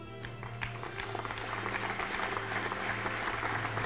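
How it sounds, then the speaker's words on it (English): An audience at an award ceremony applauds a medalist, with steady clapping that builds slightly and holds at a moderate, distant level over a low hum. "Please applaud Urs Baltensperger"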